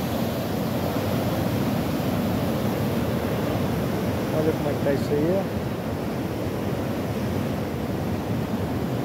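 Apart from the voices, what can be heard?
sea waves breaking at the Atafona ruins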